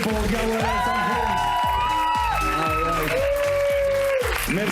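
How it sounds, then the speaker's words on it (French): A comedy club audience claps and cheers for a comedian in a dense, sustained burst, while a host speaks over the ovation. "Plus fort que ça, les amis, pour Gamouellette,"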